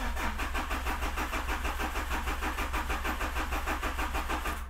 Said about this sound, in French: quelques petits coups de démarreur